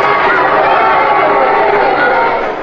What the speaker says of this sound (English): The crowd grows wild.